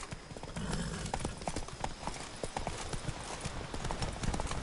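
Horse hooves clip-clop at a steady trotting pace in a PS4 video game, a continuous rhythmic clatter layered over a busy background of game ambience.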